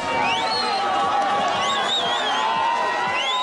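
A crowd in Bukavu cheers and whoops to welcome Denis Mukwege, with rising whistles and a continuous wash of excited voices, loud and close.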